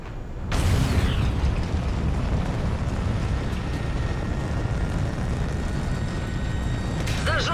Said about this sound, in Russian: Давайте поглядим, как взорвется эта башня.